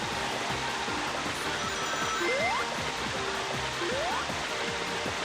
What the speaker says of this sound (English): the waterfall sound is so loud there.